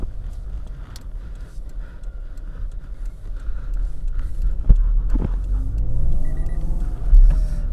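A Toyota 86 2.0 GT with a six-speed manual, an early model with 93,800 km, rumbles steadily on a test drive, with a low engine drone and a few thumps and rattles from the cabin, and no talking.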